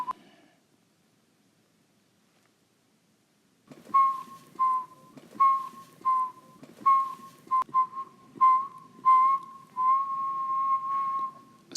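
A person whistles a sustained mid-pitched tone in a string of short phrases, each lasting about half a second, ending in one longer held note, close and clean after a few seconds of near silence.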